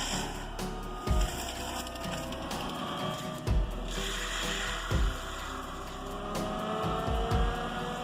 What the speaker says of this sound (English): It efficiently grinds and chops large trees with the capacity to crush and topple trees